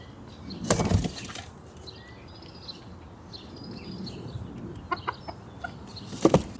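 Barred Rock hens flap their wings in short bursts and cluck softly at close range against a quiet background, with a final flurry of flapping near the end.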